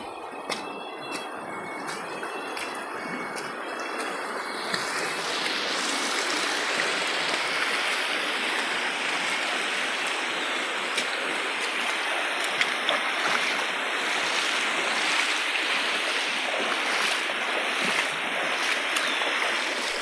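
A fierce, fast river current in the interior of a tropical rainforest, an extreme stretch of river, roars as a loud, continuous broadband rush of churning water that swells after the first few seconds and stays steady.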